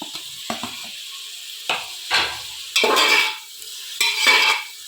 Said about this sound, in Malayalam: ഇനി ഇത് 1 മിനിറ്റ് ഒന്ന് വഴറ്റിയെടുക്കുക. അത് കഴിഞ്ഞിട്ട് തക്കാളി ഇട്ട് കൊടുക്കുക.